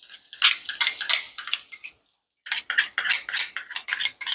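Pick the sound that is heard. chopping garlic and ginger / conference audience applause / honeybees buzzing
chopping garlic and ginger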